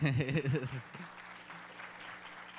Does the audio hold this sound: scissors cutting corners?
no